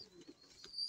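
A pigeon in a loft coos softly a few times, low faint throaty pulses close by, with a thin high whine in the background.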